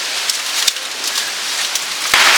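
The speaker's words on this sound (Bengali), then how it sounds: "বলতে বলতে নেমে গেছে বৃষ্টি।" Heavy rain drums steadily on a surface, a dense close hiss with scattered louder drops, growing even louder near the end.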